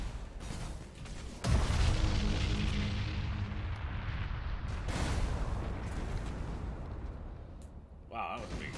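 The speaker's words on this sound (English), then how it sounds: "Wow, that was a big explosion." A big space explosion in the strategy game Battlefleet Gothic: Armada 2 lands as a sudden heavy boom, then a long rolling rumble full of crackling battle noise that gradually fades.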